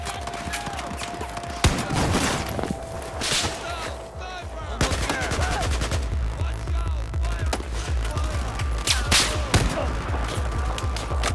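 Rapid gunfire in the video game Battlefield 4, dense overlapping automatic bursts and single shots crackling continuously and loudly throughout, with a faint tone and brief game effects underneath.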